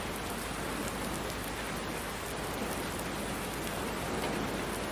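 Steady rain in Farming Simulator 19 falls as an even, continuous hiss of moderate loudness with no talking over it.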